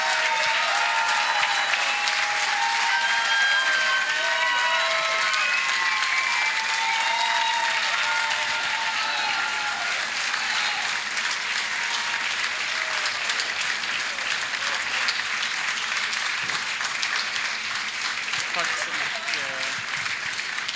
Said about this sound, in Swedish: Det är bara att ta emot applåderna.